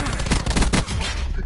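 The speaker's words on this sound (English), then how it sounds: "Gunshot." Rapid automatic gunfire from a Call of Duty match bursts loudly and continuously for a moment, with a voice faintly mixed in underneath.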